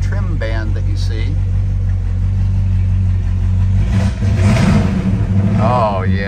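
1968 Pontiac GTO V8 engine running at a steady idle, a deep rumbling burble from the tailpipes, close and loud, with someone talking over it.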